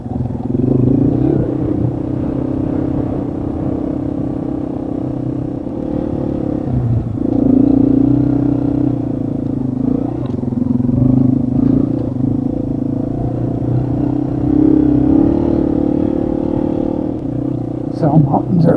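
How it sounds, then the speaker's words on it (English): ATV engines drone continuously along the Sovereign trail near Moab, a loud close rumble with clattering and shifting revs, and faint voices beneath the motor noise. "A little ATV Sovereign trail to loosen things up."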